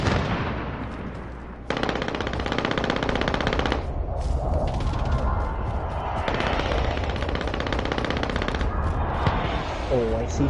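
Rapid automatic gunfire in the battle royale game Call of Duty: Warzone, with long sustained bursts and dense rattling volleys, loud and nearly continuous throughout.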